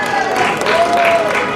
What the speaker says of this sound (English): A round of applause for the pastor.